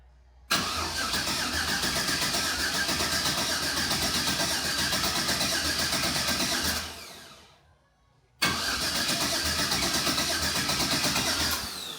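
Engine on a Bounty Hunter build, suspected of having one cylinder with no compression, cranks and catches, then runs loud and steady for about six seconds, dies away, and restarts abruptly into another steady run.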